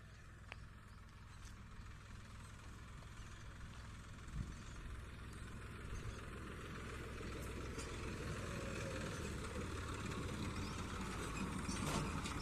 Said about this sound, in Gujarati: ન્યુ ઓલેન્ડ ટ્રેક્ટર છે.